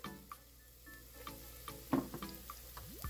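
Chopped onion, carrot and celery frying in olive oil in a pan for lasagna, giving a soft steady sizzle with light clicks from stirring, fairly quiet and close.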